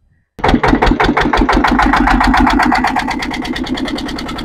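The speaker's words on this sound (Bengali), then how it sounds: "তো অবশেষে আমাদের নৌকা কিন্তু স্টার্ট দেওয়া হয়ে গেছে" A boat engine in the Sundarbans cranks to life after a brief silence and settles into a loud, close, rapid chugging rhythm that runs steadily on.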